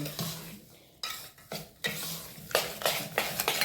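A spoon mixes mango pieces with a pinch of salt in a bowl, giving close, rhythmic wet squishing and scraping strokes in short repeated bursts.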